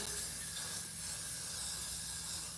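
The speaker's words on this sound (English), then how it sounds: "I like to go in with some holding spray to kind of help, you know, with the molding" Holding spray is aimed at styled hair in one steady, continuous aerosol hiss lasting a couple of seconds. It is close and even in level, with no voices over it.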